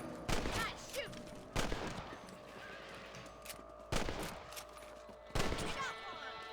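Four sharp gunshots ring out at even intervals while shooting rabbits on horseback in Red Dead Redemption, each a loud crack with a short echoing tail over quiet ambient game sound.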